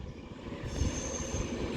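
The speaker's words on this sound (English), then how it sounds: "Now terminating in is going to be an Avanti West Coast Class 390 Pendolino" An Avanti West Coast Class 390 Pendolino train pulls in at London Euston, making a brief low rumble with faint high metallic squeal above it, heard alone.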